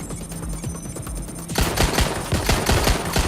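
Rapid machine gun fire in the video game Watch Dogs Legion, a dense rattling burst that grows louder and fuller partway through and continues to the end.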